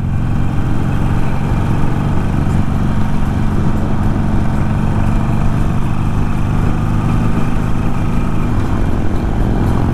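A large Harley motorcycle engine runs steadily and loudly up close at a biker gathering, a dense continuous low rumble with no breaks and no talk.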